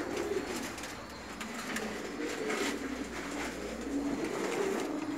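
Aslanbaş (lion-head) pigeons cooing in a coop, low throaty coos repeating every second or so, fairly close, over a steady background of rustling and faint noise.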